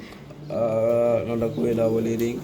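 Sherazi pigeons coo in low, throaty, rolling calls close by, with a person speaking at the same time.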